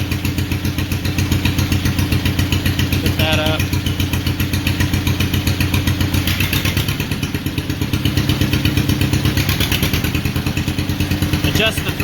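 The small engine of a John Deere LA lawn tractor runs steadily and is then throttled up from idle. It chugs loud and close with a rising, busier rumble, and a few clanks and thumps can be heard.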